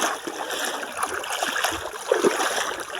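Water of the Sankri river flowing at a shallow crossing, a steady broad rush with small splashes and trickles close by.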